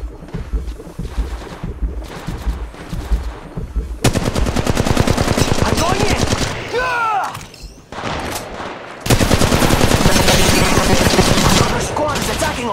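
Dense, loud bursts of rapid automatic gunfire fill an Apex Legends Mobile match, with rattling shot trains, brief gaps and a whooshing effect midway, all with no talk.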